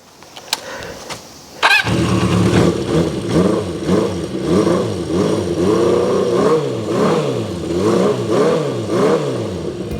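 A Honda CB400FOUR motorcycle engine cranks with a sharp start at close range, then settles into a loud, steady running idle with a rhythmic, slightly uneven exhaust pulse and some light revving.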